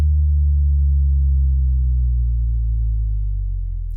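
A fidget spinner bass drop shaped with EQ plays as a thick, resonant low-end tone that sustains steadily for several seconds, slowly sinking in pitch before cutting off abruptly, loud and alone.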